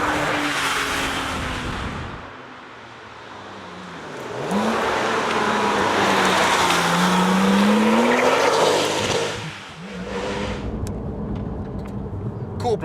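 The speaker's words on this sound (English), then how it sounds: "This is a very, very fast car" A Porsche 997 911 GT2 sports car driving fast in the rain, with an engine roar that rises and falls through gear changes alongside tyre and road noise, close and loud, with a voice talking over it.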